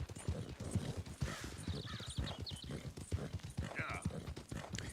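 Brindle Thoroughbred horse hooves clip-clopping in Red Dead Redemption 2, a steady galloping rhythm with a brief whinny, played quietly under a person talking.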